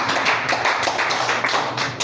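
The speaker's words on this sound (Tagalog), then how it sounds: "Palakpak sa Diyos, mga kapatid." A church congregation at a Bible study claps hands in praise to God, a dense, even patter of many hands at close range, with no voices over it.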